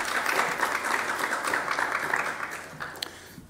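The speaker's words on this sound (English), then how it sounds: "give a very big round of applause for Kevin Brace and Angus" A conference audience claps for two presenting speakers, a brief burst of steady applause that thins out toward the end.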